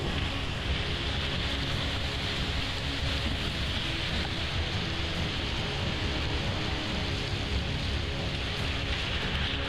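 Heavy rainstorm: a dense, unbroken roar of downpour that stays steady and loud from start to finish, with no distinct voices.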